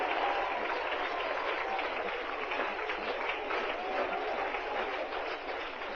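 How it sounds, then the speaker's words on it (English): A stadium crowd at a 2002 NCAA Super Regional baseball game between Rice and LSU applauds and cheers as a steady, distant roar of clapping and voices that stays level throughout. "This crowd is into it from the get-go here today."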